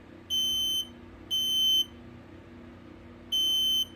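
An X-Sense SDO3 smoke alarm sounds three loud, high, piercing beeps, each about half a second long, with uneven gaps between them over a low steady background hum.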